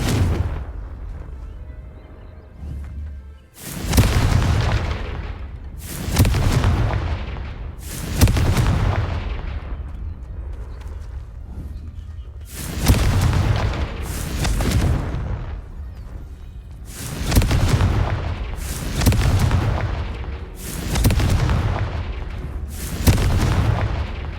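Incendio and Confringo spell blasts in the video game Hogwarts Legacy: a series of about eight loud, booming explosions fired in fairly regular succession, each with a sharp onset and a rumbling decay.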